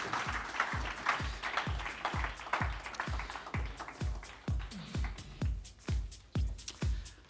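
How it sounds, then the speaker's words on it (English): A sports event audience gives a round of applause, loose individual claps in a steady rhythm, fairly faint and thinning out toward the end. "ladies and gentlemen, give him a big round of applause"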